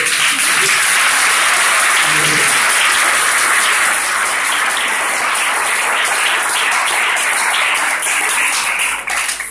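A church congregation in Gabon applauds and cheers loudly for the Lord, dense sustained clapping filling the whole stretch at close range with a few voices mixed in.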